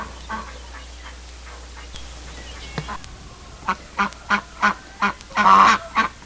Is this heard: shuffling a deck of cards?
no